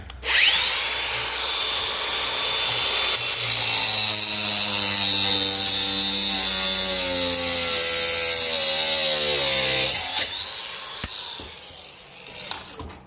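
A grinder runs continuously against a big piece of scrap metal, grinding tape off it, a loud, close whine that drops in pitch as it bears down, then winds down and stops.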